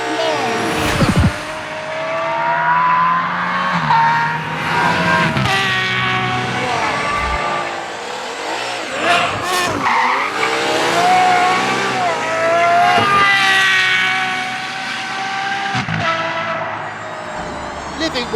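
An Aston Martin Valkyrie is driven on the Thruxton race circuit, its high, shrieking engine note rising and falling through gear changes, loud and close throughout, with intermittent talk over it.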